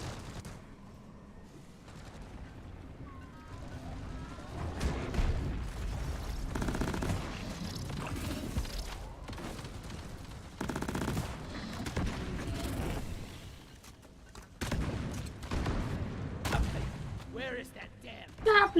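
Rapid automatic fire from a deployed sentry gun in the co-op mining shooter Deep Rock Galactic, bursts rattling on and off at moderate distance amid game effects, with voices talking over it.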